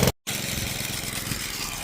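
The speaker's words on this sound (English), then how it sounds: "Just set up a little gas engine there" A small gas engine on a drone-spraying setup for corn fungicide runs at a steady, loud drone after a brief silent gap, humming continuously close by with no talk.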